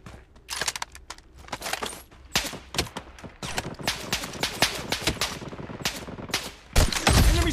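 Rapid bursts of automatic gunfire in the mobile shooter Blood Strike, sharp repeated cracks firing in quick strings across the whole stretch, with a heavier, closer blast near the end.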